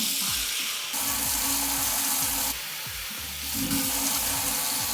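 Water poured into a pot for mushroom syrup alongside sugar, with a steady, fairly loud rushing pour and splashing that surges and eases in several waves.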